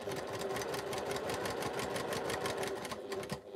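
A sewing machine hums and chatters continuously at a steady pace, stitching a quilt seam with a short stitch length, close and alone.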